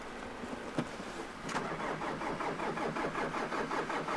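A Nissan X-Trail engine with 300,000 km cranks briefly, then catches and settles into a steady, rhythmic idle, heard up close with no talking.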